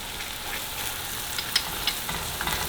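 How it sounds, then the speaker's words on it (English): Ingredients for a Thai-style fried fish with sweet and sour pineapple sauce are stirred in a hot frying pan: a steady close sizzle with a few light scraping clicks from the utensil, no talking. "now we're gonna give them a good mix before I add the next ingredient"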